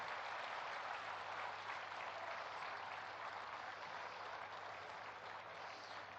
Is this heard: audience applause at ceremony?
yes